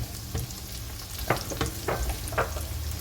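Steady sizzling and crackling of hard vegetables such as carrots stir-frying in a hot pan, with occasional scraping stirs; no talking.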